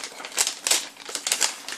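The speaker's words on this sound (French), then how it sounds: "Dans la petite enveloppe. Que je vais déchirer." A small taped envelope is torn open, paper tearing and crinkling in short bursts, a few sharp rips close by with brief pauses, no voices.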